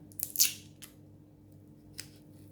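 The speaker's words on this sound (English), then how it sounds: "Let's cut the pear." A knife cuts through a pear during salad preparation, making a few soft, crisp slicing crunches: a brief cluster of cuts early on and a single faint cut later, with quiet pauses between.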